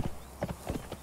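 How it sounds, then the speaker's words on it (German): A horse's hooves clip-clop in the video game Conan Exiles, four quick, close hoof beats in a brief, fairly quiet burst. "Das Pferd macht schon die Soundeffekte."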